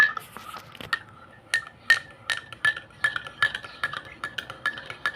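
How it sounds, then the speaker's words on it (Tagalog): A utensil stirring food in a pot or bowl, with repeated clinks and scrapes in an irregular rhythm, close and clear. "Haluin po natin."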